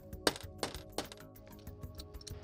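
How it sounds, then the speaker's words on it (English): A roll pin punch drives a pin out of a Ford 460 carburetor, giving a few quiet, sharp metallic taps and clicks close by, spaced irregularly and fairly faint. "I'm going to use a roll pin punch to drive the pin out from the bottom."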